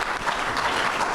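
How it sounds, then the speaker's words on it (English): Audience applause for a panel at a storm water ordinance meeting, a short steady burst of many hands clapping at full volume throughout. "please give this group a round of applause"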